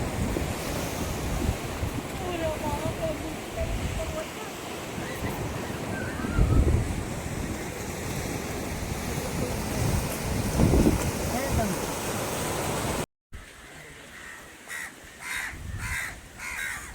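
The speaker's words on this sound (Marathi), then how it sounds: "लाटांचा आवाज बघा इथे." Sea waves crash on the shore below a coastal fort at Malvan, a loud continuous surf roar with wind buffeting the microphone and crows cawing nearby, then a quieter stretch near the end.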